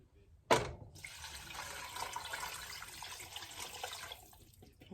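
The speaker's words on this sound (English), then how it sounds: "Now I'm going to pour it in here." Four cups of water pour into a pot of beef and vegetable soup, starting with a sharp splash and settling into a steady, close rush of liquid for several seconds.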